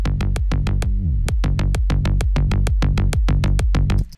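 A fast, steady psytrance kick pulses with rolling bass lines underneath that clash with the kick and each other, the low end sounding cluttered and muddy, playing alone for a few seconds.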